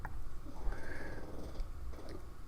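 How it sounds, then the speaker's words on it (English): A small pet named Hunter snoring nearby, a continuous low rumbling purr-like breath with a steady rough texture, soft but constant throughout. "snoring away"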